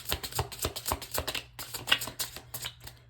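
A deck of tarot cards being shuffled by hand, giving a close, rapid run of crisp clicking bursts with short pauses between clusters. No one speaks.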